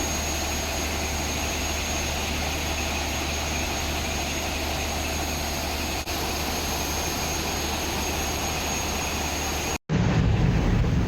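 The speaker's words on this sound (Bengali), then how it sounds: "এটি হচ্ছে লঞ্চের ইঞ্জিন রুম, আর এই লঞ্চে ব্যবহার করা হয়েছে 1400 হর্স পাওয়ারের দুটি ইয়ানমার ইঞ্জিন।" Two 1400 hp six-cylinder Yanmar engines roar inside the engine room of a passenger launch, a constant loud drone that stops abruptly near the end.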